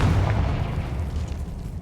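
A Confringo fire blast spell in Hogwarts Legacy, a heavy low boom that opens loud and rolls into a sustained rumbling tail, with no voices.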